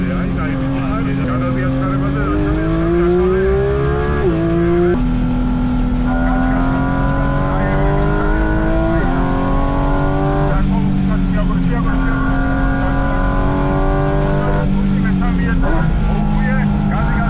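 A Porsche GT3 RS accelerating hard on the Hungaroring race track, its engine note climbing repeatedly through the gears with sharp drops at each upshift, loud and close, with an instructor talking over it.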